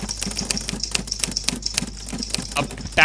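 Rapid, uneven clatter of typewriter keys with sharp mechanical clicks, played alone as a stock typewriter effect, ending in a brighter burst at the close.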